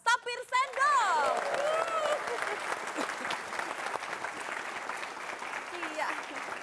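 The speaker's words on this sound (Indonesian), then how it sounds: "kita berikan tepuk tangan untuk Pak Sapir Sendok." Audience at an Indonesian evening parody talk show breaks into steady applause, a dense, moderately loud wash of clapping that carries on throughout, with a voice speaking briefly over the start.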